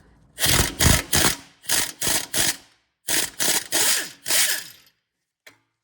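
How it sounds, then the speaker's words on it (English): A micro impact wrench hammers at stuck Subaru hub bolts in a series of about ten short, loud rattling bursts grouped in threes and fours, followed by a faint final blip. "I got my micro impact on here"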